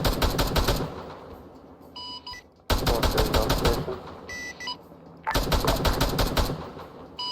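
Machine gun fire in a video game: three loud, rapid bursts of automatic gunfire separated by brief pauses with quieter mechanical clicks and tones between them.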